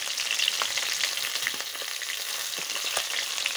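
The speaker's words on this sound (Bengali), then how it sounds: "তো আমি এর জন্য আমি মাছ ভাজি করছি" Tilapia fish fry in hot oil with a dense, steady crackling sizzle, close and even throughout, broken by a few faint pops and taps, with no voices.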